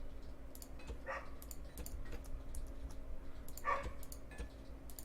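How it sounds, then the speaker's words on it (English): A neighbor's dog barks faintly in the distance, several short sparse yaps scattered over a quiet indoor room tone with light clicking. "Sorry about the dog. Not much I can do about the neighbors."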